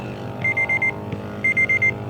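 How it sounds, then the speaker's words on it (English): A timer alarm marks the end of a 10-minute basketball session with two loud, close bursts of four rapid electronic beeps each, separated by a short pause, over a low steady background hum. "So we're going to set the timer for 10 minutes. And when you hear this sound,"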